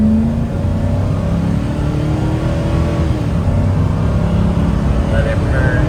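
A high-mileage Ford F250 truck engine held at full throttle, a steady loud roar with a sustained drone and no breaks over several seconds.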